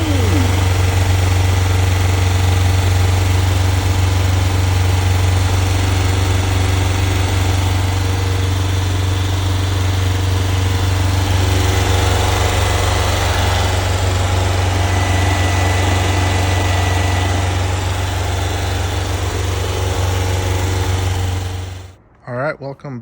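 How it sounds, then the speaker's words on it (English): A built 1641cc VW Ghia engine with dual carburetors on 32 mm venturis and a pair of dual mufflers idles steadily and close up, giving a constant low rumble that holds for about twenty seconds before cutting off abruptly. "So I got the engine running and I got it broken in."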